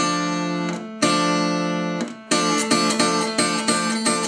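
Sustained guitar double stops, two notes ringing together in a Delta blues style, plucked a few times, then a quicker run of picked notes; clear and close with no talking.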